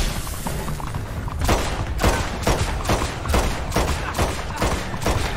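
Gunfire in Red Dead Online, a run of loud, evenly spaced heavy shots booming one after another over a rumbling background.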